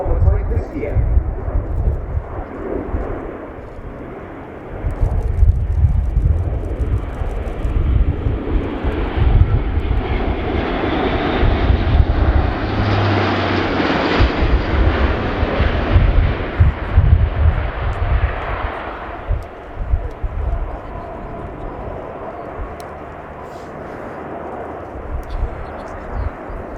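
Airbus A400M military transport aircraft performing a flying display at an air show, its turboprop engines producing a loud, sustained roar that swells as it passes and slowly fades, with faint voices in the crowd.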